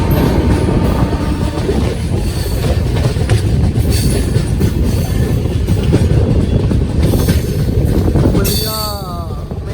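Saryu Yamuna Express train arriving at Ballia station, a loud continuous rumble of rolling carriages with rhythmic wheel clatter and a brief squeal of wheels near the end.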